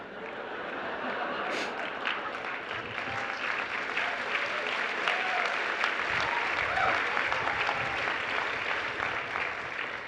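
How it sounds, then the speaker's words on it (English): An audience at an arts talk breaks into long, sustained applause, a dense roll of many hands clapping that holds steady and swells slightly toward the end. "Why are they clapping?"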